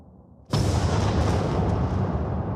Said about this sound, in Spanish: la detonación de la bomba liberó la energía equivalente a 21 kilotones de TNT